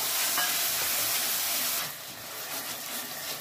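Ground chilli and spices sauté with a splash of water in a pan for a tilapia fish curry, giving a loud, continuous close hiss that eases slightly after a couple of seconds, with no voices.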